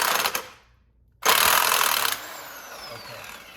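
A sharp, loud metallic strike from a hammer knocking a part off a 2009–2014 Nissan Maxima rear crossmember cuts through after a brief silence, followed by a sustained clanging ring that slowly fades.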